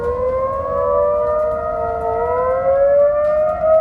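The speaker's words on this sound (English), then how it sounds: "setting off every emergency siren in Dallas, Texas at once, in the middle of the night" Civil defense sirens across Dallas, Texas wail at night in long, rising and falling tones, loud and sustained with several pitches layered together, no voices.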